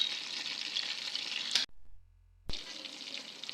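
Chicken fries in a pan after being turned, a steady hiss of oil sizzling that cuts out abruptly for about a second and then resumes at the same level.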